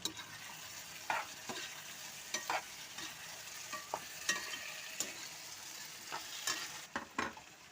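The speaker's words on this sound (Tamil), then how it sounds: "கத்திரிக்காய் நல்லா வதங்கணும்." Brinjal sautés in oil in a pan, a quiet continuous sizzle broken by scattered spoon scrapes and stirring taps over several seconds, fairly close and faint.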